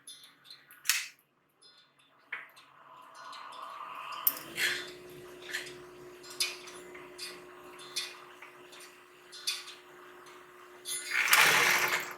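Sewing machine stitching a fabric drawstring pouch closed, its steady motor hum running for several seconds amid scattered handling clicks and taps.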